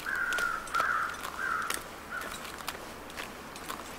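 Crows cawing in the wilderness survival video game The Long Dark, a string of harsh repeated caws in irregular rhythm, moderately loud with faint crunching footsteps underneath and no talk.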